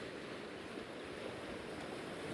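Ocean waves breaking against a seawall make a steady, full wash of surf that hisses and roars without pause, fairly close, with no voices.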